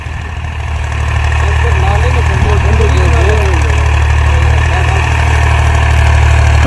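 A tractor engine idles at low throttle in a village, a steady loud rumble with a constant low drone and knocking vibration, running without pause close by.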